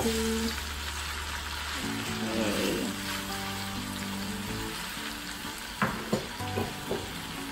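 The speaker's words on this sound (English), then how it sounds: "I'm just gonna mix that and let that flavored oil just slowly coat that beautiful pasta" Spaghetti tossed in sizzling garlic-infused olive oil in a single pan, a steady fry hiss under soft stirring, with a few louder scrapes and clacks of the utensil near the end.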